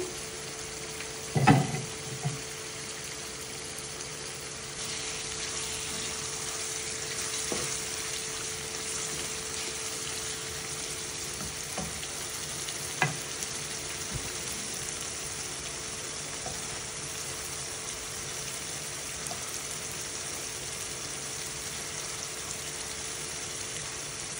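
Fish curry with prawns frying in a pot as green chilies are mixed in: a steady, fairly quiet sizzle running throughout, broken by a few sharp spoon knocks near the start and later scattered stirs.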